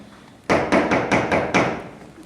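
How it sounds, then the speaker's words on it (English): Five firm knocks on a door during a staged play reading, sharp and close, in an uneven quick rhythm over about a second, with no talk over them. "There's a knock on the door."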